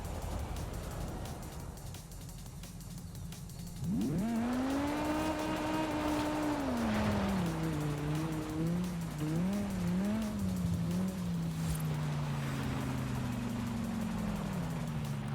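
A BMW in a racing video game revs up and drives off with screeching tire squeal, engine pitch rising and wavering through gear changes over steady background din, no talk.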